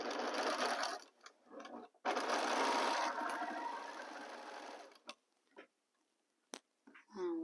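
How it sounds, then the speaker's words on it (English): A sewing machine runs in short bursts, joining rows of pieced fabric with a quarter-inch seam, its whir near and steady for a few seconds before tapering into scattered clicks and quiet, with a faint sound at the end. "Here I align my fabrics and continue sewing a 1/4 inch seam allowance."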